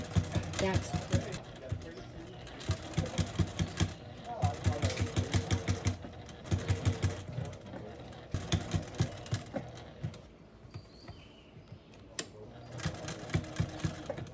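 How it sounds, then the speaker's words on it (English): A sewing machine runs a straight stitch around a fabric tote bag made from scraps, in close bursts of rapid rhythmic clatter that stop and start several times, with a person talking between runs. "I'm just going to use a straight stitch and I'm going to go all the way around"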